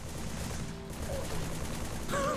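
Gunfire in the video game Halo 3, a rapid dense stream of shots with a brief gap early on, fairly quiet under game ambience.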